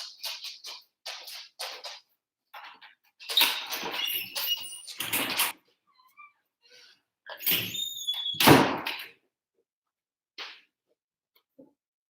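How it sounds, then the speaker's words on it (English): A door is opened to let a dog in, giving a series of close clicks, knocks and squeaky scrapes in separate bursts, with louder rattling and thumps midway and quiet gaps between. "let me just open the door for my dog."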